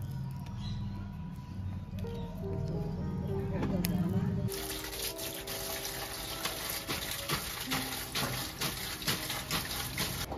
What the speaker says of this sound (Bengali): আচার করার আগে কুলগুলো ভালো করে ধুয়ে নিলাম